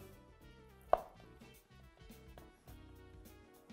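Knife slicing through a block of tempeh, fermented soybean cake, on a cutting board, one sharp cut standing out among soft quieter strokes in a calm kitchen.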